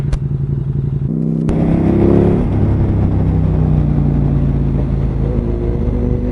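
A KTM Super Duke R motorcycle engine roars loudly and steadily while being ridden, with a surge in revs and shifting pitch after about a second, continuing as close, constant engine drone with no talk.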